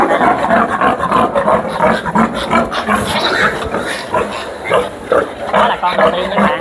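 Piglets squealing and grunting loudly and continuously after castration on a farm, close by, with someone talking over the noise throughout.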